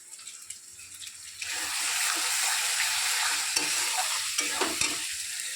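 Meat hits a hot pan and frying starts with a loud, steady sizzle after a quieter opening, with occasional stirring scrapes and clicks close by.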